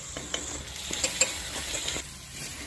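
Chopped onion and green chilli sautéed in a pan with salt and turmeric, with a spoon stirring and scraping in quick light strokes over a soft, steady sizzle.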